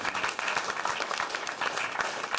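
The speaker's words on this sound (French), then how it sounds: "On l'applaudit." Steady applause from an audience at a live stage performance, dense overlapping claps filling the room at an even level throughout.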